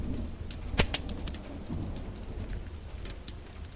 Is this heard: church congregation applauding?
no